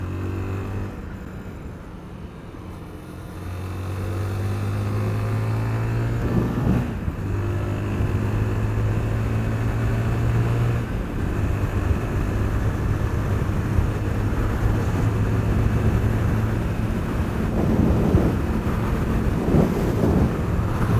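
A Zontes 350GK single-cylinder motorcycle cruises at 70 mph in sixth gear around 6,500 rpm, a steady engine drone heard from the rider's seat under heavy wind rush, with no talk.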